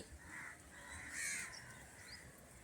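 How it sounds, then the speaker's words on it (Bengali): Crows caw in the distance on a rainy early morning, with a few faint, drawn-out calls over a soft background hiss. "ওই যে কাকগুলো উড়ে উড়ে যাচ্ছে ওই যে"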